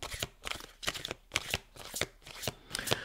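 Cards being shuffled for a card reading, a close series of quick riffling bursts in a regular rhythm, about six of them, with no talking.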